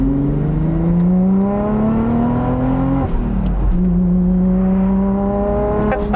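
A 2001 Audi S4 Avant wagon's twin-turbo V6 revving hard, its engine tone climbing through two strong, close, loud pulls with a brief drop between gear changes, no talking.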